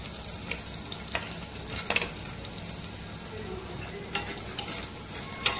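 Cashews frying and being stirred in a pan with a soft continuous sizzle, broken by scattered clinks and scrapes of a spoon against the pan.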